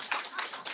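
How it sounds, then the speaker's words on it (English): Audience applause at a live comedy podcast taping at the Just for Laughs festival, a brief dense burst of clapping close and fairly loud. "People are clapping. People are applauding."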